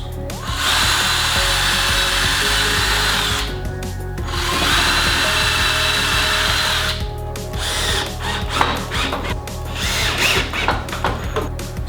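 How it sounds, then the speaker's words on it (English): Power drill boring holes into a 2x4 board held on its side for wine bottle holders, two long loud whirring runs with a brief pause, then shorter bursts and clunks as the bit finishes. "I can sort of stabilize it a little bit while I drill the holes"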